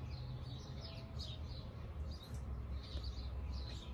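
Birds sing outside a house in Galveston, with repeated chirps and short calls at moderate distance over a constant low background rumble.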